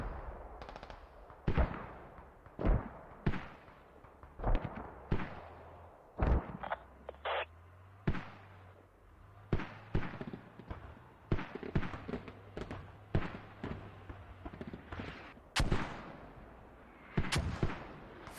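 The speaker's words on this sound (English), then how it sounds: "First mortars." Mortar fire in a video game, many sharp booming impacts scattered irregularly over the whole stretch, some near and loud, others more distant, over a low background rumble.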